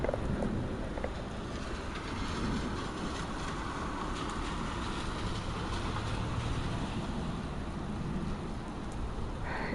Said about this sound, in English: Raining like crazy now.